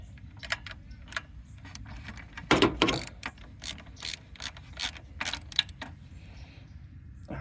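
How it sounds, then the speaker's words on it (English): A hand ratchet clicks in quick bursts while tightening a bolt on a Husqvarna yard tractor, the sharp close ticks repeating in short runs over faint background. "we'll just screw it in by hand before we put the ratchet on it"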